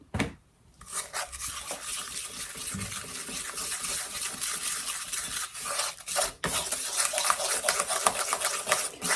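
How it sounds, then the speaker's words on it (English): Fifty grams of caster sugar being beaten into egg yolks in a bowl, a steady close scraping and whisking rasp that runs continuously with a brief break partway through. "I'm just beating 50 grams of the caster sugar in with the egg yolks"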